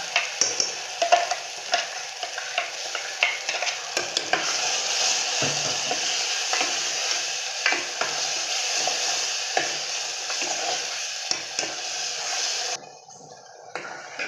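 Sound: ground masala paste frying and stirring in oil

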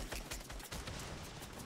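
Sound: gunfire in the Fortnite video game

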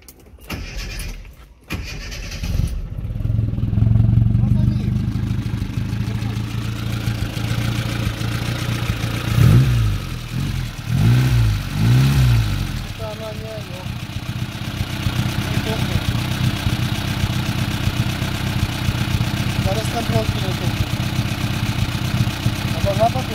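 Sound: ZAZ car engine starting after gearbox repair

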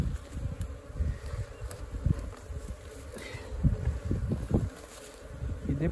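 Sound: Apis honeybees swarming from a termite mound

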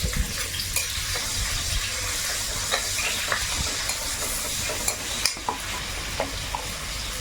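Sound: chopped onion and garlic frying in oil in a pan

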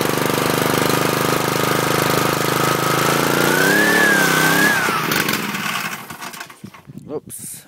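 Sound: MI-T-M Chore Master pressure washer engine starting and running

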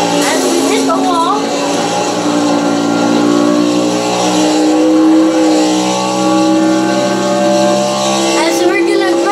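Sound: NASCAR Chevrolet skidding and hitting the wall in video game Project CARS

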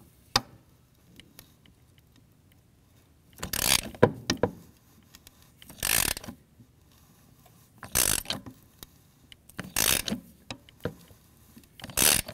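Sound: socket wrench loosening broken spark plug, Ford 5.4L Triton

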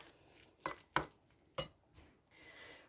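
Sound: mixing egg yolk, liver and mayonnaise filling in a bowl

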